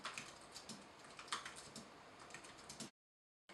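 Quick, light clicking of typing on a Rapoo E9070 wireless ultra-slim keyboard, a soft notebook-style patter of close keystrokes that runs for about three seconds and then stops.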